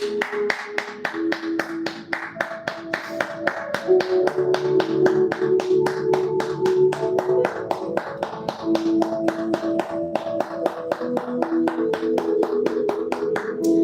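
A steady stream of rhythmic handclaps sounds over music with sustained tones during a live religious broadcast, the claps evenly spaced and continuous throughout.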